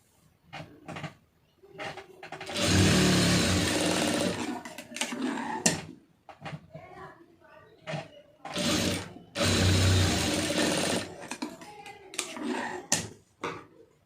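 A sewing machine stitches a lined blouse in two sustained runs of close, loud, steady whirring, separated by brief pauses filled with small clicks and handling noises.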